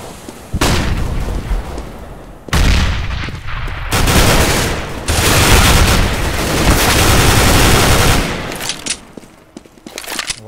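Heavy bursts of gunfire in Counter-Strike on de_mirage, loud close volleys in several blocks separated by brief gaps, dense and sustained with booming impacts.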